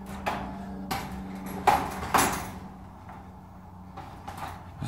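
Garage door panel section flipped into place while replacing damaged flush panel sections: a few sharp knocks and clatters of the panel landing against the frame, several distinct thuds scattered across a quiet room.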